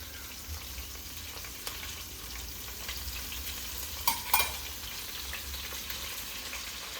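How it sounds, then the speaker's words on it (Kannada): Onions frying with masala in a pan give a continuous, moderately loud sizzle, with a few sharper stirring clicks partway through and no talking. "ಹತ್ತರಲ್ಲಿ ಐದು ಈರುಳ್ಳಿ ಇದಕ್ಕೆ ಸ್ವಲ್ಪ ಮಸಾಲೆ ಎಲ್ಲ ಫ್ರೈ ಮಾಡೋಕೆ ಹಾಕೋತೀನಿ"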